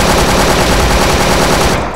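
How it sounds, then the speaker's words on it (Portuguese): Rapid automatic gunfire in an online multiplayer shooter game, a dense loud burst of shots lasting about two seconds, close and continuous before cutting off. "Ai, eu tomei muito tiro."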